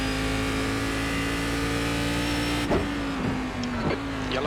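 Race car engine in the iRacing sim at Watkins Glen, a steady droning note holding, then revving and shifting with throttle blips toward the end, loud and close.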